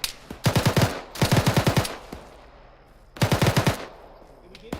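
Close, loud bursts of machine gun fire during a military field training exercise, with three distinct rapid strings of shots separated by short pauses and no talk over them.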